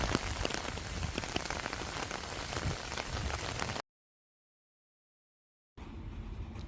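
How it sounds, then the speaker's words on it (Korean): Heavy rain pouring outside during a typhoon, a dense, loud, steady wash of drops drumming on surfaces that cuts out abruptly to silence for a couple of seconds, then resumes more softly. "비가 잔뜩 내리고 있어서 밖이 저렇게 어두워요"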